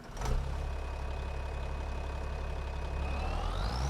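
A tractor engine idles in Farming Simulator 25, a steady low rumble that holds evenly throughout with no talking.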